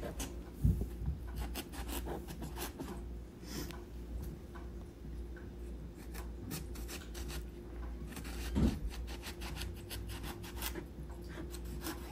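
Knife slicing a vegetable thinly on a board in a home kitchen, heard as soft steady rasping and rubbing strokes with a couple of louder cuts, close and alone without talk.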